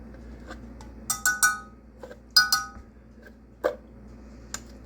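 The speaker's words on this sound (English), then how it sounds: "I'm going to put the peanut butter in this other dish over here" Peanut butter goes into a glass dish with a few sharp clinks and taps of a utensil against glass, scattered irregular knocks alone in a quiet kitchen.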